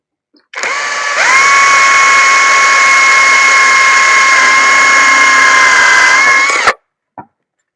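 A power drill driving a screw whirs steadily for about six seconds at close range, its pitch rising slightly after the start, then stops abruptly with a brief click.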